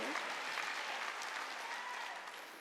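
A Korean church congregation claps during a Sunday worship service, a steady, full wash of applause from a large indoor crowd that holds evenly throughout.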